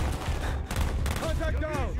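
Rapid gunfire in the Call of Duty Black Ops game, sharp cracking shots in quick bursts over a rumbling battle bed, with a voice calling out among the shots.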